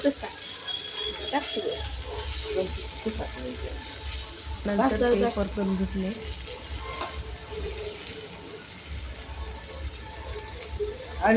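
Noodles being stir-fried with sauces in a kadhai, a moderate sizzle with scraping and stirring clatter running underneath, with people talking nearby through much of it.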